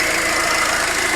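A Peugeot 307 SW 2.0 HDI diesel with about 165 thousand miles and its engine cover missing, idling steadily with an even, continuous mid-pitched drone, close and alone without talk.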